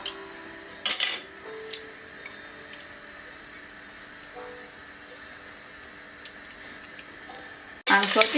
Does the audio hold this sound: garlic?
yes